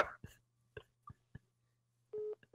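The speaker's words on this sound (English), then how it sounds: "That's what an Australian dial tone sounds like." An Australian telephone dial tone sounds as a short, faint, steady buzzing tone near the end, after a few brief clicks and noises over a low hum on the line.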